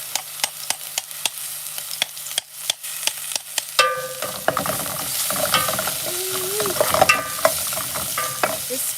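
Crushed garlic drops into a hot pan and sizzles, with sharp utensil clicks and scraping first, then a dense crackling fry and stirring that builds and carries on close by, with no voices.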